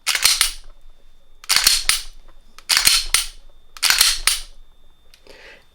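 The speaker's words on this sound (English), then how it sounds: "that is how you practice prepping the trigger and hitting the reset in dry fire" A pistol is dry-fired as trigger practice: four sharp clicks come at roughly even intervals, each with a brief mechanical rattle, followed by a softer shuffling sound. The sounds are close and clear against near silence, with no speech.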